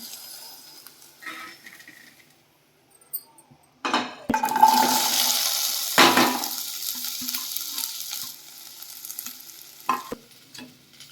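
Okra (ladyfinger) fries in a pan. Quiet stretches with light clatter break into a loud burst of hissing sizzle, then the frying fades, dotted with a few sharp knocks of utensils and no talking.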